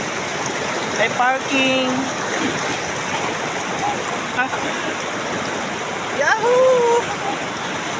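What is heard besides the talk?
river water flowing at a resort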